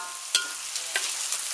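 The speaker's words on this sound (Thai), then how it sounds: "ทอดตะไคร้ให้กับกรอบครับ" Lemongrass frying in oil until crispy, a continuous bright sizzle up close, with a couple of sharp stirring clicks breaking through the hiss.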